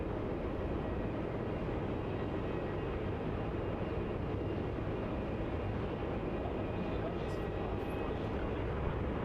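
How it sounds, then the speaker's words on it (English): An Airbus A320 taxis at Melbourne Airport, its engines a steady, broad rumbling roar at moderate distance, with a commentator talking over it. "on screen there you can see the A320 taxiing"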